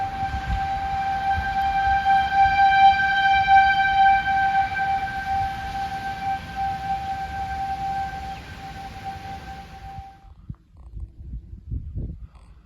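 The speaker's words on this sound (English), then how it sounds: "The sirens are going off again." Outdoor tornado warning sirens wail with a loud, sustained, steady tone over rustling wind for about ten seconds, then cut off, leaving quieter ambient noise.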